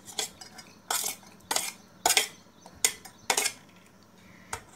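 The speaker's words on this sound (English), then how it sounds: "I will mix chopped vegetable in it." Utensil scraping and clinking against a bowl while chopped vegetables, including onion, are mixed, in a series of sharp irregular knocks at close range with no talking.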